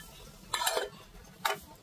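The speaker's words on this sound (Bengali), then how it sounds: "তো ঢাকনা চাপা দিয়েছি" Lid set onto a cooking pan of frying bitter gourd and prawns, two brief metallic clinks about a second apart, close and fairly light over a quiet background.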